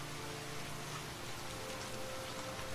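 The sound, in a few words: heavy rain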